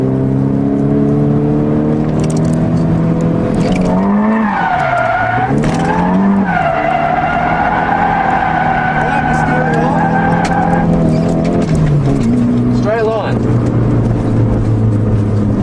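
A car drifts in second gear with loud, sustained tyre squeal and a revving engine rising and falling in pitch, close and continuous throughout, with a voice talking over part of it.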